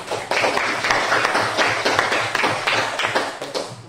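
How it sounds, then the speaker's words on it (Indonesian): A classroom of students claps for a classmate, a short burst of brisk, uneven hand claps close by, fairly loud and without talk. "Tepuk tangan dulu untuk Fitri."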